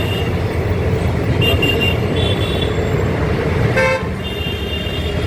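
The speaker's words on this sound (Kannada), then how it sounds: "ಮೈಸೂರು ರೋಡಲ್ಲಿ ಹೋಗ್ತಾ ಇರೋ ಮೈಸೂರಿಗೆ ಹೊರಟಿರೋಂಥ ಟ್ರೈನ್." A loud, steady rumble of a Mysore-bound train rolling past on the Mysore Road line, with a horn tooting briefly midway before the noise drops slightly near the end.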